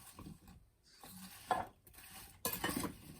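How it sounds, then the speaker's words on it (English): A spoon scrapes and clinks against a bowl while cinnamon is stirred into sliced apples, two or three short, close bursts of stirring separated by brief quiet gaps. "I'm going to stir this up"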